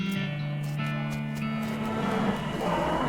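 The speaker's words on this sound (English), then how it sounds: "You hear ominous mooing!" Ominous cow mooing in a video game: a drawn-out, low bovine moo holds steady over a dense hum of background game noise, loud and close, with no one talking over it.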